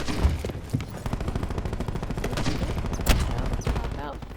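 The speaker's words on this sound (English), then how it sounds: "Oh no, cluster grenade." Rapid bursts of cluster grenade explosions and gunfire in Black Ops 4, dense and continuous with sharper blasts standing out, a voice briefly audible underneath.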